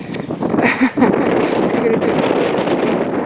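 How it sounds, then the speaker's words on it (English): Steady wind buffets the microphone in a broad low roar on the coast at Peveril Point, with a couple of brief gusty bumps near the start. "It's probably too noisy to film, windy."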